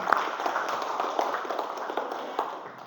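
Students in a vocational automotive engineering classroom give a group a round of light, scattered clapping, a steady patter of hands that fades gradually over a few seconds.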